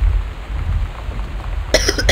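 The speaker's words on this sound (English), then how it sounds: "Pardon my cough." A single cough near the end of a short stretch of quiet room tone, close and fairly sharp.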